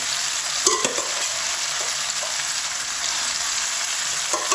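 Turnip and spinach hit a hot frying pan with a loud, steady sizzle that holds throughout, with a few brief stirring clatters near the start and end.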